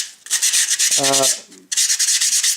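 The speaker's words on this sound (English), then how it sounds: "I've got a piece of sandpaper, and where I've trimmed it down, I'm just going around with the sandpaper, just smoothing off" Sandpaper rubs back and forth over the trimmed edge of a scratch-built Red Dwarf model, producing loud, close, rhythmic rasping strokes broken by a short pause and a faint tonal squeak.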